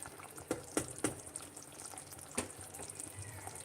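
Fresh calamari cook in a pan of tomato passata, giving a faint, low simmering bubble with a few soft pops and clicks scattered across the few seconds, and no voices.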